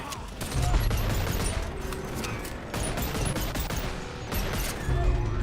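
Rapid gunfire from two guns fired together in the VR shooter Boneworks, dense loud bursts running almost continuously with brief gaps, a few heavier low thumps mixed in, no talking.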